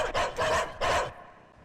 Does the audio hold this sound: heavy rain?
no